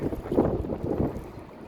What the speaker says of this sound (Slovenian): tako pa odhaja Viking iz Luke Koper